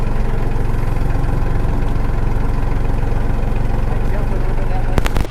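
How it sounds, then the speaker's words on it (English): A tractor engine idles and chugs loudly and steadily up close while the scoop takes down an old hunting tree stand, and a few sharp knocks land near the end. "For this, we used our tractor scoop."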